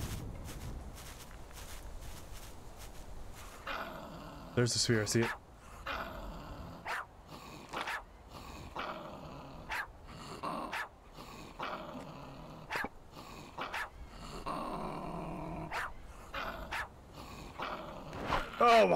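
A dog growls and barks in the survival video game Survival: Fountain of Youth, with repeated snarls and footsteps at moderate volume while someone talks over the action.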